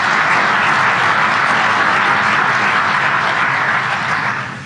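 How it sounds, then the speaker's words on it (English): A conference audience on security gives a sustained round of dense, even applause that holds steady for several seconds before beginning to fade at the end, with no talking over it. "I hope that's not the last bit of applause that I get"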